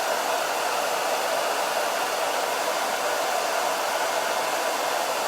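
A hair dryer drying Chalk Couture ink on a shirt, blowing with a loud, constant whooshing roar from start to finish, close by and with no talk.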